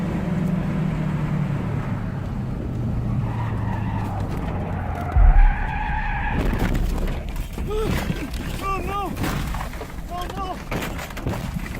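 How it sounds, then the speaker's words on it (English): Car tires skid and squeal loudly over engine noise as a car slides toward a road edge, recorded by a dash cam, with a sharp thump partway through and rising screeching tones afterward. "He was left skidding towards the edge"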